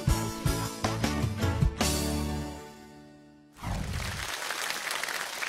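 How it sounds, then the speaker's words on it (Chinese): Audience applause at a televised rural TV awards ceremony in a hall, a dense burst of clapping that swells, fades out and then picks up again. "掌声祝贺他们"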